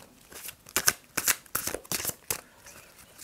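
Oracle cards are shuffled for a tarot-style reading, giving a run of quick papery riffles and soft slaps in short bursts, close and fairly quiet.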